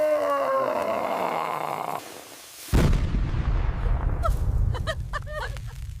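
A Diwali firecracker bursts with a sudden loud boom partway through, followed by a sustained low rumble with scattered crackles and pops.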